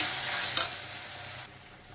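Ground masala paste hits lightly browned onions in a hot pan for mushroom masala and gives off a loud, steady sizzle with a brief stirring scrape. The hiss drops off sharply near the end.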